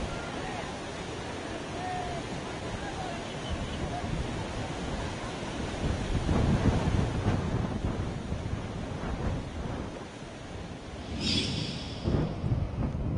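Water rushes in a broad, continuous roar with a windy, noisy texture, swelling slightly in the middle, as 49,000 cusecs discharge from Nandurmadhmeshwar dam in Nashik after heavy rain.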